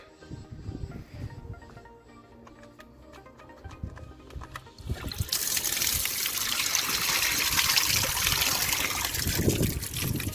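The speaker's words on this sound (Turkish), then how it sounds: "Burada su bulağı var." Water fountain in a house courtyard, a faint trickle at first under scattered clatter, then a loud, steady broadband splashing flow that fills the rest of the recording.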